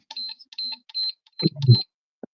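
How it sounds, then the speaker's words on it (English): A series of short, high-pitched electronic beeps in a quick irregular pattern, with a brief low thump near the end. "Sorry for the beeping."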